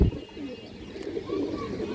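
A pure khora gola (drought-throat) male pigeon, an old-line bird with purple-tinged legs, gives soft throaty coos close by, with a brief louder sound at the start and no talking.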